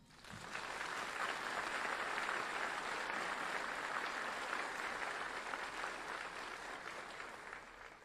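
An audience at a Fort Jackson Army graduation ceremony applauds the band, a steady, dense wash of clapping that holds at even loudness for about eight seconds before tapering slightly at the end.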